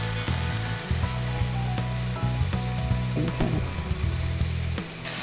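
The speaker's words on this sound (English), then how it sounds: "we're going to let that bacon make a little bit of fat for us" Bacon sizzling in a pan as it renders its fat: a bright, steady crackle near the pan, with low rumbling and scattered clinks from handling the cookware, no voices.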